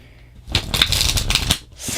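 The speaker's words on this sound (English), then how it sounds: "now we're gonna pull some oracle cards" A deck of oracle cards is shuffled up close, a loud riffling and flapping rush lasting about a second, then a brief softer rustle.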